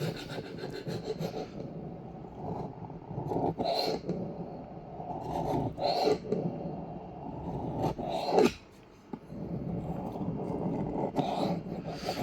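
ZT 0350TS knife blade being sharpened on a 16000 grit whetstone, with close, soft, repeated rubbing and scraping strokes in an irregular rhythm and a short pause near the end.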